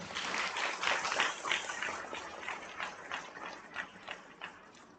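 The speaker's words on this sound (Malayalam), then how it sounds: "ഒരു കൈയടി കൊടുക്കുന്നു" A crowd at a church gathering claps together, a dense and fairly loud patter of many hands that stays steady, then slowly thins and fades toward the end.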